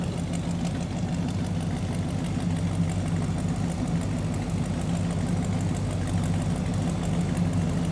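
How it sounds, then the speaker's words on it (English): Low, steady rumble of a 1967 Pontiac GTO convertible's V8 engine idling nearby, even and continuous throughout with no voices. "There's a little rumble coming out of that V8."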